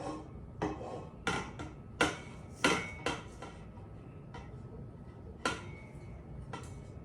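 Dry corndog batter ingredients (flour, black pepper, salt) stirred in a mixing bowl, producing a run of sharp utensil clinks and taps against the bowl, close and moderately quiet, with no speech.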